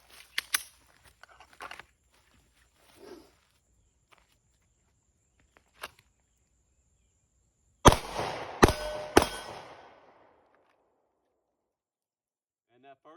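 A Sig P365 pistol fires three sharp, loud shots in quick succession after a long, mostly quiet stretch broken only by faint clicks and handling sounds.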